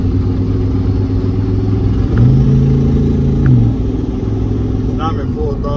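A turbocharged Chevy Tahoe on a base tune drones loudly at half throttle from inside the cabin, a steady low rumble that climbs briefly in pitch before settling back, continuous throughout.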